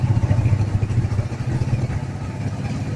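A Kawasaki Barako 175 motorcycle engine idles close by with a steady, throbbing low chug and some mechanical clatter, alone for the full few seconds.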